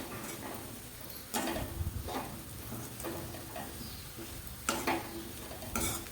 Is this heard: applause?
no